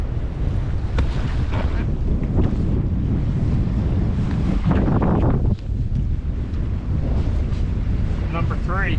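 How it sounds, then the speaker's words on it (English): Steady wash of river water slapping against a small fishing boat on the Bush River, mixed with heavy wind buffeting the microphone throughout, with faint knocks and a brief squeak near the end. "I think it's the waves."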